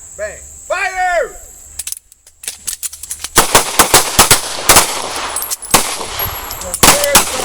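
Many pistols fire at a shooting range during a basic self-defense pistol class: after a shouted command, a dense volley of loud, sharp reports from several shooters overlaps in quick succession, with a steady insect-like hiss in the background.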